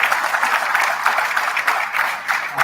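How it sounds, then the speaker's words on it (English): An audience at a diaspora forum's opening plenary breaks into steady, sustained applause, dense clapping from many hands filling the room without pause. "Big applause for being here"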